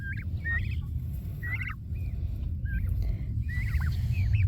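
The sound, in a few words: bronze turkey gobbling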